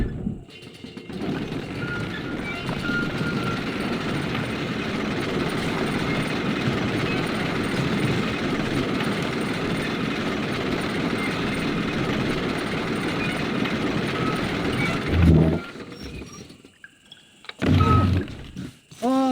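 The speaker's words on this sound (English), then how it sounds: "Load up and I'll engage the gears" Heavy lift gears in a Red Dead Redemption cutscene grind and rumble steadily for about fifteen seconds, a dense mechanical drone that cuts off abruptly, followed by a couple of short clanks near the end.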